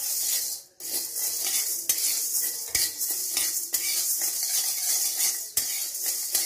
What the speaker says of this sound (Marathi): डाळ सोनेरी कलर येऊपर्यंत भाजून घेऊया